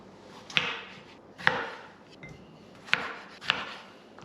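Four knife cuts through tomatoes on a cutting board, each a crisp chop with a short scrape, spaced about a second apart at close range with no voices.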